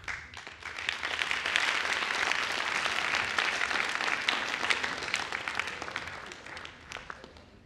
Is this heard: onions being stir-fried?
no